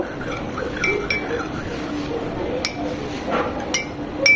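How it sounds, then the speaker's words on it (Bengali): Sauces for beef chow mein mixed together in a bowl, with a few light, sharp clinks of a utensil against the dish over a soft, steady background. "আর একটু সবগুলো সস খুব ভালোভাবে মিশিয়ে নেব"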